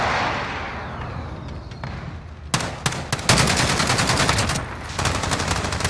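Gunfire in Call of Duty, starting with a rumbling lull, then a sudden burst of loud, rapid automatic shots in tight bursts that keeps going in near, sharp volleys toward the end.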